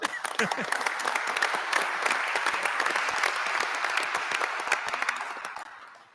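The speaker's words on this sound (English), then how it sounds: "You want to give her a hand clap right there?" A meeting audience at the Missouri highway commission applauds its new communications director, a crisp, sustained round of many hands clapping with a few voices underneath, fading out near the end.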